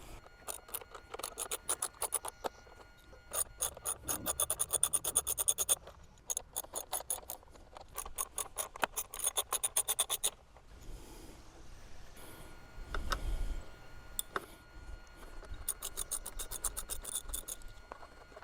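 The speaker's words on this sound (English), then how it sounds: "So all 5 of those bolts need to be removed." An Allen key works bolts loose on a CFMOTO 450SS motorcycle, giving rapid metallic ratcheting clicks in repeated bursts with short pauses and an occasional soft thump, close up and quiet.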